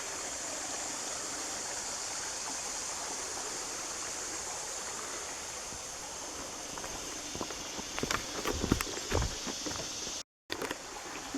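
A creek flows beside a hiking trail in a nature preserve, giving a steady, moderately quiet babble throughout, with a few footsteps crunching on the trail near the end.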